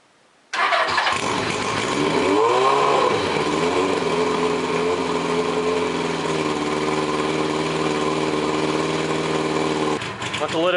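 A Suzuki GS850 motorcycle engine cranks and catches after a quiet start, then settles into a loud, steady, slightly uneven idle close by that runs until the end, rising briefly just after starting.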